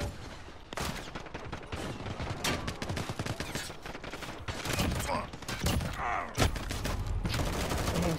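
Video game gunfire: dense, continuous volleys of shots and rapid bursts fill the whole stretch loudly, with a brief louder burst near the end.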